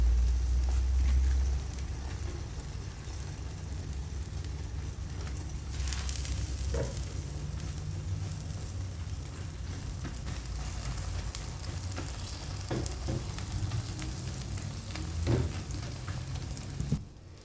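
Sliced ampalaya, bitter gourd, frying in a pan at home: a steady soft sizzle with faint crackles throughout, a few brief clinks of a utensil near the end, no talking.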